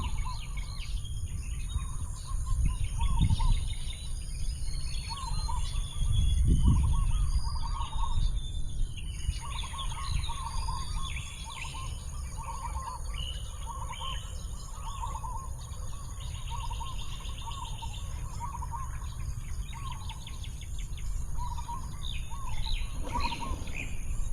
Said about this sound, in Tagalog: Pag nakakarinig ako ng ganyan, yung mga huni ng ibon